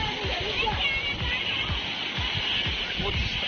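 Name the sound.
Nagarda waterfall splashing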